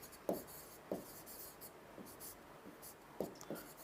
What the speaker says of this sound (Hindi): तो मैं यहां लिख रहा हूं